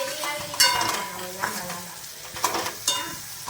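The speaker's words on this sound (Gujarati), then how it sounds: "આપણે વઘારી છે વાલોરનું શાક" Valor beans and tomatoes sizzle in hot tempering oil while a spoon stirs and scrapes the pan, giving a steady frying hiss broken by several clattering stirring strokes.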